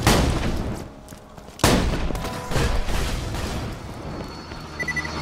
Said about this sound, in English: Shoot a shotgun